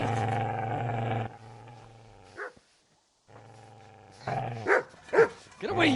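A dog growls and barks in the medieval video game Kingdom Come Deliverance, with a low sustained snarl at first, then a gap of near silence and several sharp barks and yelps at the end, loud and close.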